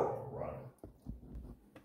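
A small dog gives a short whining bark followed by a few faint, brief yaps, fairly quiet and a little distant in an otherwise calm room.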